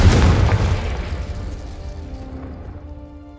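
The Confringo fire spell in Hogwarts Legacy bursts as a single loud, deep boom that hits at once and then rumbles away over a few seconds, with no voices.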